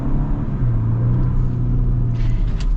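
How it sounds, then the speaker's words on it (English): A 2025 Ford Ranger pickup with the 2.7L V6 accelerates hard, its loud close engine rising in a steady growl with a faint turbo whistle on top, no talking. "Makes a cool turbo sound."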